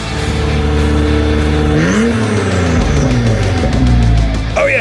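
An Acura TL Type S drives hard with a loud, close engine that revs, shifts gears with a pitch drop, then climbs again, ending in a brief tire squeal.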